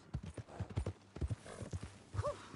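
Horse hooves clip-clopping in a video game, a steady run of close, distinct hoofbeats across the clip, with a brief whinny near the end.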